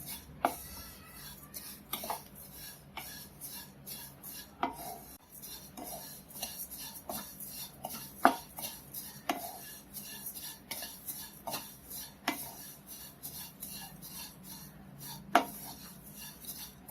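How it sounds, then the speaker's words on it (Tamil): Pre-roasted vermicelli stirred in a pan as it roasts, giving soft scraping and rubbing strokes punctuated by sharper metallic taps of the spoon against the pan at an uneven, fairly steady rhythm, close and clear. "இப்போ அதே பேன்ல நம்ம இந்த சேமியா வறுத்துடலாம்."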